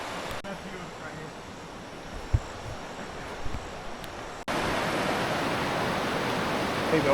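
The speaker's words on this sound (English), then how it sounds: "The only class 3 rapids in Florida." Class 3 rapids on the Suwannee River in Florida rushing as a broad, continuous roar of water, steady and fairly loud, growing fuller partway through.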